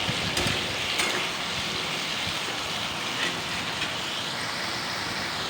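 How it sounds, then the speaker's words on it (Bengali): Sliced ridge gourd, potato and onion sizzle in oil in a pan while browning. The steady, even hiss continues throughout with a few faint clicks. "চলো এখন এগুলোকে একটু বাদামি বর্ণের করে ফ্রাই করে নিই"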